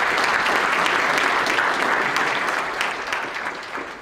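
Audience applause in a meeting room, a full, sustained burst of many people clapping together that stays strong and then tapers off gradually toward the end.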